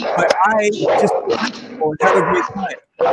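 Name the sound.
dog barking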